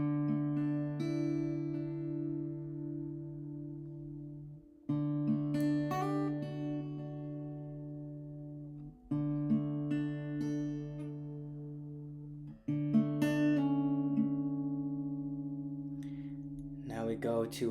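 Acoustic guitar notes ring out in phrases, each opened by a strummed chord followed by softer picked notes and hammer-offs that let the sound sustain and fade.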